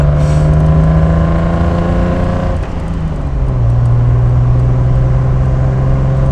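A big classic car engine, a 170 HP Mercedes-Benz 280 SL Pagode, rumbles loudly at close range, its pitch rising with a rev, dipping, then settling into a steady idle.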